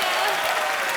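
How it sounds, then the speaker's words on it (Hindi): A studio audience at a Christmas special of The Kapil Sharma Show claps loudly and steadily, a dense, continuous wash of applause for the whole short moment. "दोनों के लिए जोरदार तालियां हो जाए।"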